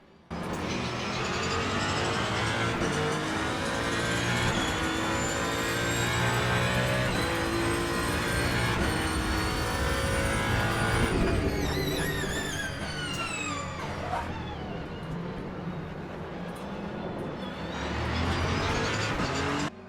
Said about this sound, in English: The sound of the cars in general feels good, and as other cars go around you and go past you.